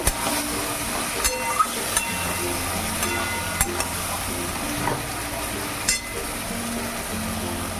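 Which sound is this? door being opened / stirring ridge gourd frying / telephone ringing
stirring ridge gourd frying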